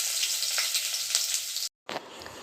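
Garlic and dried red chillies fry in hot oil in a pot, making a loud, dense, continuous crackling sizzle close up, broken by one brief silent gap before the hiss resumes.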